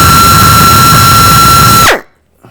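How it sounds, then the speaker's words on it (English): A drill boring into the underside of a Harley-Davidson Sportster intake manifold, loud and steady with a high whine, then the motor winds down and stops abruptly. "I'm going to drill into the bottom of the manifold"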